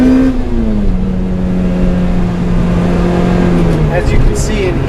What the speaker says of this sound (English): the vehicle accelerates rapidly with just a wonderful purr sound to it